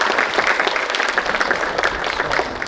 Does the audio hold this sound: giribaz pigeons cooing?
no